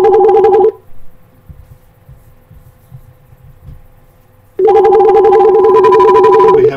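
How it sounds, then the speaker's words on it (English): A telephone rings with a loud warbling electronic tone in two bursts separated by a few seconds of near-quiet. "We have a phone call."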